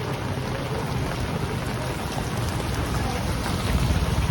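Heavy rain pours down on a beach, a loud, dense and steady roar of falling water that swells slightly toward the end, with no voices over it.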